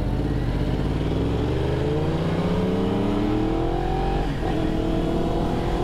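A tall sport motorcycle, an S1000RR or Yamaha R1, revs close by as the throttle is worked, with rising engine pitch, a brief dip and a steady loud drone throughout.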